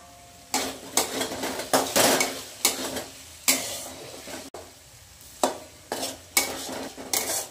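A spoon scrapes and stirs khichdi with crushed peanuts and sabudana in oil in a pan, in repeated sharp strokes about once a second over a faint sizzle, with no talk.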